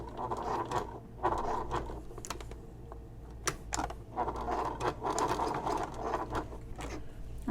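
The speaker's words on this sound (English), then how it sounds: "just keep back stitching so I can get back to the beginning of my" A sewing machine backstitching on a messenger bag, the clicking, whirring stitch bursts coming in short runs with brief pauses between them, close and steady, with no talking.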